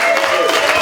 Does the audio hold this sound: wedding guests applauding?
yes